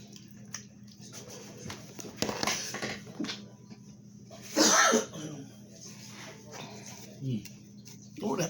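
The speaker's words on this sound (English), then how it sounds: "that pepper making me sneeze" A person sneezes and coughs from paprika pepper while seasoning fish tacos, a loud burst midway among smaller throat noises and quiet background sounds.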